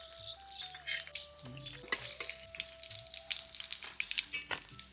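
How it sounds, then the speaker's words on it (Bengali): Fish, a large aar catfish from the Ajay river, sizzles as pieces fry in hot mustard oil, a steady close crackle and hiss with faint stirring and utensil knocks throughout. "বাকি মাছগুলো এখন ভেজে নিচ্ছি"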